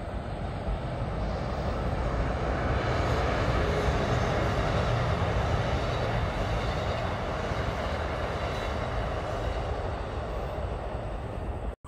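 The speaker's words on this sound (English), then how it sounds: "the Amtrak going downtown Chicago has went by again" An Amtrak train heading toward downtown Chicago rumbles past near the old Joliet Iron Works in Illinois, a steady loud roar of wheels and engine that fills the whole stretch without pause.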